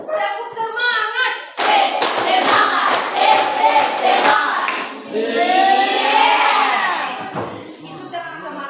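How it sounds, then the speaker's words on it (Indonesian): A group of children claps the rhythmic Indonesian spirit clap, tepuk semangat, in loud, quick patterned bursts. Voices chant and shout along between and over the claps. "Itu tepuk semangat 1."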